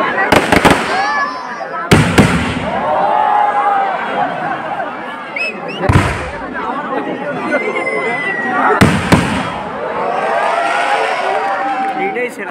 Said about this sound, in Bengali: চলছে এক সপ্তাহের আতশবাজি প্রদর্শনী।